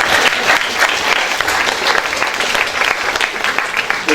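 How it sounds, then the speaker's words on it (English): A conference audience bursts into loud, sustained applause, dense clapping holding steady for several seconds without a break. "At which point there was thunderous applause,"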